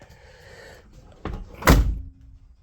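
A 1999 Chevrolet Tahoe's rear door swings open and knocks against the driver's door, giving a creak followed by one sharp, loud metallic thud close by, then quiet.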